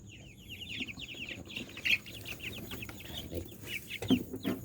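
Several chicks cluck and chatter in quick, repeated bursts, fairly faint, with a few sharper calls standing out near the end.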